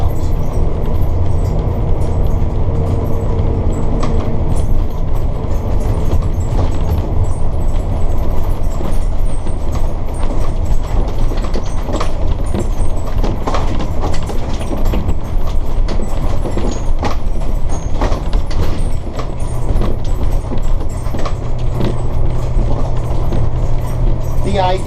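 Interior noise from a diesel coach on a test drive along a back road: a loud, steady low engine drone and road rumble with rattles throughout, while someone talks over it.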